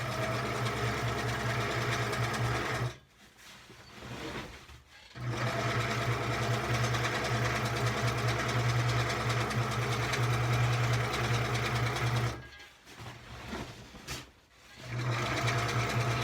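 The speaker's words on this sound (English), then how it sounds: "when you sew, you want to back it up a little bit to make it sew really nice and tight at the edges" A sewing machine stitches and backstitches waterproof sleeping bag material. It makes a steady, close mechanical hum in long runs, broken by two short pauses where the stitching stops and reverses.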